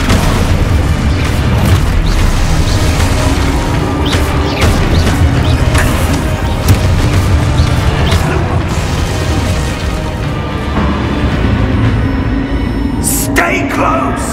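Spell-casting combat in the Hogwarts Legacy video game brings dense, loud booms, crashes and magical bursts in rapid succession, with voices shouting over the continuous fight.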